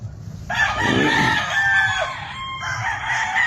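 Broodstock gamecock rooster crows once, loud and close, a long drawn-out call over a farmyard background with other birds faintly behind.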